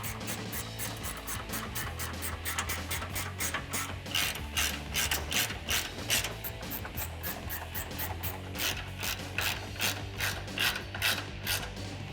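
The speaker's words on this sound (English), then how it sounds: "you can use a 10mm wrench instead" Rapid ratcheting clicks from a 10mm wrench turning steel running board mounting bolts on a 2014-2018 Chevrolet Silverado 1500, a steady close, even run of pawl ticks over a low hum, with no talking.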